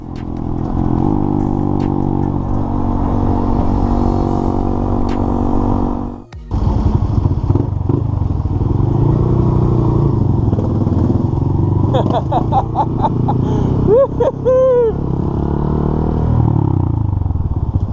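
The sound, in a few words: 125cc motorcycle riding with aftermarket exhaust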